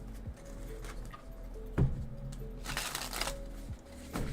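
A deck of tarot cards is shuffled by hand, soft riffling and flicking bursts up close with a sharper tap, quiet and intermittent over a low background hum.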